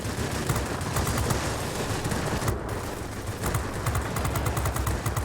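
Sustained rapid machine gun fire from an XP-50 fighter plane in World of Warplanes, a dense continuous rattle that stays loud and close for the whole stretch with no talking.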